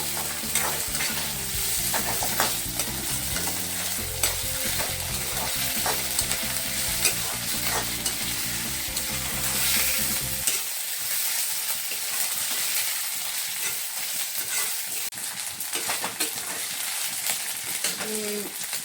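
Ginger-chili paste frying with bay leaves, cardamom and cinnamon in hot oil, a steady close sizzle with stirring scrapes throughout, music underneath for the first half, no voices.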